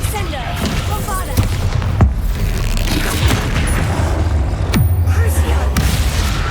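Spell explosions in the video game Hogwarts Legacy during a troll fight: heavy booms and sharp impact cracks every second or so over a dense battle din, with voices shouting incantations.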